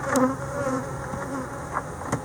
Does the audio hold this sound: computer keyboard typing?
no